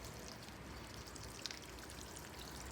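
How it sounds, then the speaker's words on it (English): Water poured over the body seams of a BMW 6 Series, tested for rain leaks, gives a steady soft splashing and trickling like rain on a surface, close and continuous, with one brief louder splash partway through. "So I'll pour some water down there once again."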